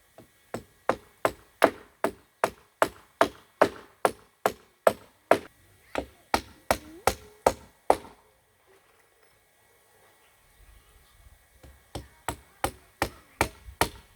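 Nails driven by hammer into 150x50 wooden boards for a sauna's bottom frame, a long run of sharp, evenly spaced close blows, then a pause of a few seconds before another quick series starts.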